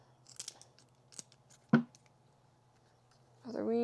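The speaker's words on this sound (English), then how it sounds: "So first thing I do, I'm gonna cut the wings off." Shears snip through a butchered quail's wing joints, giving a few crisp cuts with one sharp crunch near the middle. A voice starts speaking at the end.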